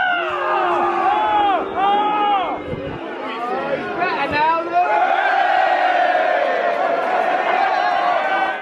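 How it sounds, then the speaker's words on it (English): A packed football stadium crowd roars and cheers at a match, a dense, loud wall of shouting, whooping and chanting voices that swells and stays strong throughout. "that right there is the biggest cheer I've heard in this stadium today"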